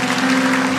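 A church congregation claps together during a sermon, a brief, dense burst of applause that fills the room evenly without speech.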